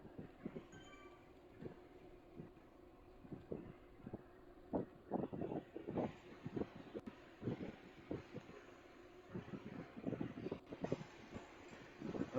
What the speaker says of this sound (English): train whistles.